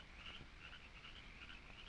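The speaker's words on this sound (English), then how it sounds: "It's a bird with long red feathers." A high, repeating animal call from a jungle at night, a film sound effect with a steady croaking, frog-like chorus running throughout at moderate level, no speech.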